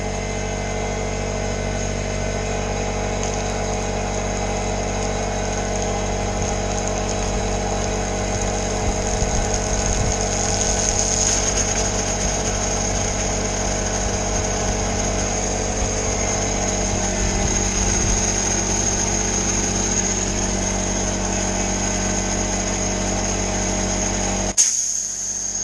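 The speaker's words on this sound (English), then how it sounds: "I'm going to blow my pressure washing hose out." A pressure washing rig being winterized, with compressed air blowing out its hose, gives a steady, loud, continuous hiss and machine drone that holds unbroken for about 25 seconds before cutting off abruptly near the end.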